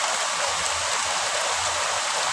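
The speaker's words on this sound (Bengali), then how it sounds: "আকাশ থেকে যে বৃষ্টি পড়তেছে" Steady rain falling outside a window, a dense unbroken hiss of drops that stays constant and fairly loud throughout.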